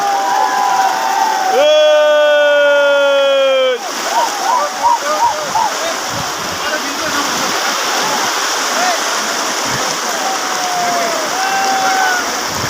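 Steady broadband rush of flowing river water at Sada Pathar, Sylhet, runs throughout, with people talking and a loud voice or call near the start.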